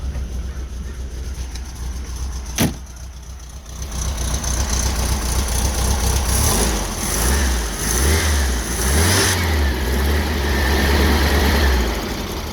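A hot rod VW Vespa 400 engine, fitted with new electronic ignition and run on choke, cranks with a sharp click, catches and runs, then revs up and down in several loud close swells.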